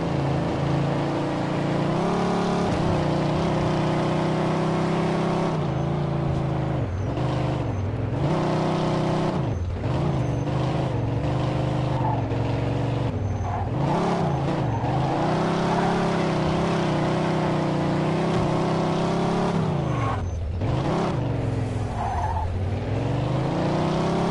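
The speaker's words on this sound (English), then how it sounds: "In pursuit of a speeding vehicle." A speeding car roars through a police pursuit in the video game Mafia 2, its engine loud and close for the whole stretch, pitch climbing and dropping with repeated gear shifts and occasional tire squeals, with no talking.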